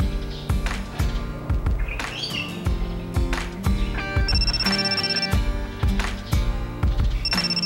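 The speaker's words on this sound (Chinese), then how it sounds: "我怎么好像也听到电话的铃声？" A telephone rings repeatedly in short trilling bursts, layered over a steady rhythmic thumping beat and chirpy background tones.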